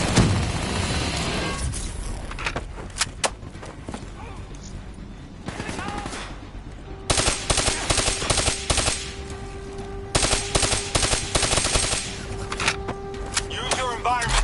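Sustained automatic gunfire in the Black Ops 3 campaign, dense rattling bursts over a loud game soundscape with explosions and mechanical clanks, continuous for the whole stretch.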